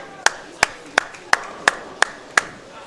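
Seven sharp, evenly spaced claps ring out at a bowling tournament, a single spectator or two applauding in a steady rhythm against a quiet lane background.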